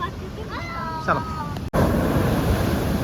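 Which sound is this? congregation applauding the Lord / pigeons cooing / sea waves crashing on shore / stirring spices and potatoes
sea waves crashing on shore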